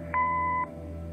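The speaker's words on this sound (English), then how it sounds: "Leave a message after the beep." A single electronic answering-machine beep from the Kathy Rain detective game, a clean steady tone lasting about half a second over a faint low hum, with nothing else around it.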